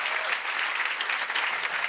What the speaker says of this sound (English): Round of applause for Pee-wee and Wolfgang.